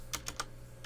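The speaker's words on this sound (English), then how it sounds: "you can get to that by just typing gpedit.msc" Keys on a computer keyboard are typed in a short burst of three quick clicks and then one more, close and crisp, over a faint steady hum.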